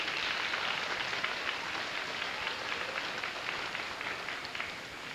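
Continuous, rain-like applause from an elementary school audience for vocal soloists at a 1989 school choir concert, steady and moderately loud throughout with no talking over it.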